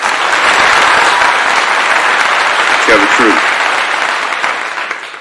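Loud, sustained clapping rolls through a sports post-game show after a Colorado versus Nebraska football game, a steady wash of many hands while a voice speaks briefly over it.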